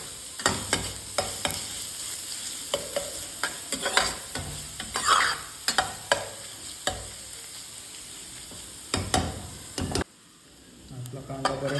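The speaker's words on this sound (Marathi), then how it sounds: "चांगला तेलात तांबूस होईपर्यंत भाजून घ्यायचं" Onions frying in oil in a pan until golden brown for paneer makhani, a steady close sizzle broken by repeated loud scraping stir strokes throughout, ending in a brief quieter pause.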